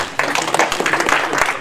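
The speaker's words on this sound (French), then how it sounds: "Monsieur Baka Daniel, il est important qu'on applaudisse s'il vous plaît." A crowd at a political party gathering in Paris applauds, a brisk, fairly close patter of many hands over a short burst, with faint voices mixed in.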